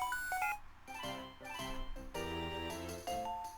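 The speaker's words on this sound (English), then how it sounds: "The X transceiver is ringing." Xtransceiver ringtone in a Pokémon game, a bright electronic jingle of repeating tonal chime notes that plays loudly and continuously with no talk over it.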